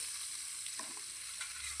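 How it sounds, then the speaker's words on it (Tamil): Dried fish fries in a pan for a thick tomato and onion thokku, giving a steady, soft sizzle with occasional faint crackles and no talking. "கருவாடை வறுத்தெடுக்க போறியா ஆ சரி வறுத்தெடு வறுத்தெடு"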